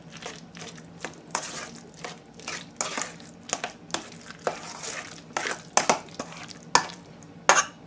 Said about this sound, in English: Let me go ahead and use a spoon. Kind of stir a little bit.